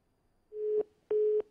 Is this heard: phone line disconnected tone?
yes